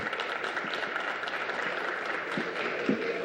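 Members of the Ontario legislature applaud during Question Period, a steady, moderately distant clapping from a chamber crowd.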